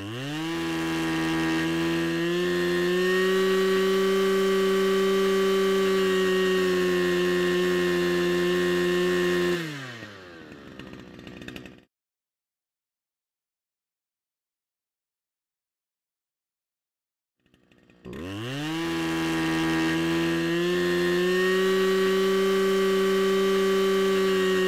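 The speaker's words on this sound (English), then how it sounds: "so you can hear the difference between four stroking and two stroking" A small two-stroke engine revs steadily at high speed during a carburetor high-speed screw adjustment, loud and close, cuts out into a few seconds of silence, then roars back up again, with no talk.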